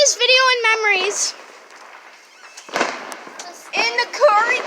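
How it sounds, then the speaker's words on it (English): Fireworks crackle and pop all around a neighbourhood, a loud whistling rocket at the start, then scattered bangs and a second whistle. Someone shouts and cheers over them. "Fireworks around us."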